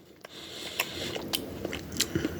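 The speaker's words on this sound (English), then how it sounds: "Nice nutty crunch from the hazelnuts." Bites into a thin milk chocolate bar with crushed hazelnuts and almonds give a few sharp, close crunches spaced through the moment, with soft chewing between them and no talking.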